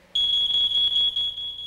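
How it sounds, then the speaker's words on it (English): A household smoke detector in a burning house shrills a single steady piercing high tone that starts abruptly and holds for well over a second, loud and close, with no voices. "They reach 4 feet before the smoke detector goes off,"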